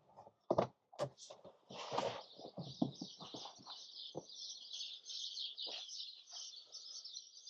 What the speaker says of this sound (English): Lots of birdsong here today.